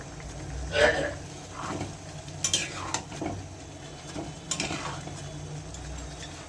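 Fried rohu fish head and sugar go into a pot of Gobindobhog rice muri ghonto and get stirred, with scraping spoon strokes and light clinks of metal against the pot, intermittent and close, under a soft background hum.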